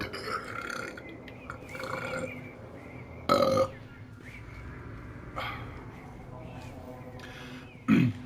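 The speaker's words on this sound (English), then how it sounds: "I'm gonna burp" A short burp sounds close up, with a second brief one near the end, over steady background game audio and quiet talk.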